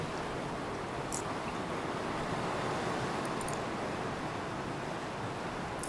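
A steady roar of sea waves at Puri beach, heard from a seventh-floor sea-facing hotel room, washes continuously, broad and hissing, with a few faint high clinks briefly cutting through.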